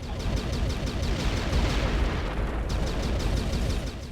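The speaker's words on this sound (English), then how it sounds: "you just gotta shoot out all the little mini turrets on it, and then blow him up" Continuous dense gunfire and booming explosions from the Descent 3 video game during a fight with a turreted enemy in the PTMC Spacecraft Factory level, loud and sustained throughout with rapid repeated shots layered over rumbling blasts.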